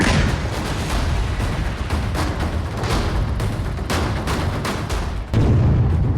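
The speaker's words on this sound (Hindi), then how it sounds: "सुरक्षा बल पीछे हटे और एक ही धमाके में पूरा घर तबाह हो गया" A dense, continuous roar of blasts and rumbling booms from an IED explosion demolishing a house, loud and sustained, with sharp cracks scattered throughout.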